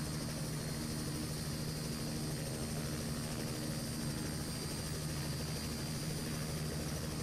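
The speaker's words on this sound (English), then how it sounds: "The Robinson's a great little utility helicopter capable of 130 miles per hour" Robinson utility helicopter in Microsoft Flight Simulator X, a steady droning engine and rotor hum running continuously at moderate level with no voices.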